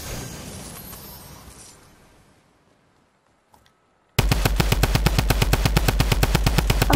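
Fading ambience drops to near silence, then a drum gun in a video game opens up with loud, rapid, evenly spaced bursts of automatic fire that continue steadily to the end.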